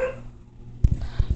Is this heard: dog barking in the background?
yes